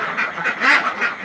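Sick ducks on a farm hit by duck plague quack repeatedly up close, a run of nasal calls in quick succession with no talk.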